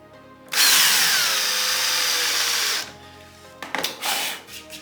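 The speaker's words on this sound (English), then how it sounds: "So I'm gonna put in the screw." A drill drives a screw into a pre-drilled wooden board for a closet, with a loud, steady whirring whine lasting about two seconds, followed by a few shorter scraping and clicking bursts close by.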